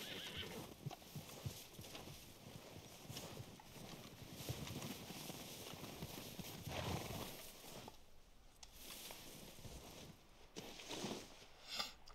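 A spooked horse in the video game Red Dead Redemption 2 whinnies and clip-clops on snowy ground, its hooves scuffing and thudding in a quiet, close scene along with a sharp neigh.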